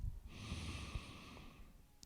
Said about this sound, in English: Begin to deepen your breath, breathing in and out through the nostrils.